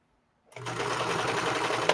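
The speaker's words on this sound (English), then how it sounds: "let's make this stitch line" A sewing machine runs steadily for about a second and a half after a brief silence, its motor hum and rapid needle clatter close and continuous, stopping with a small clunk at the end.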